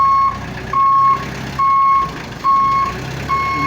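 A reversing alarm newly fitted to a truck in a workshop sounds with five evenly spaced, loud electronic beeps, each about half a second long, over a low idling rumble.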